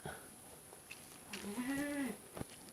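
A goat gives a single drawn-out bleat at close range while it is being examined on a farm, with faint handling noises and quiet talk around it.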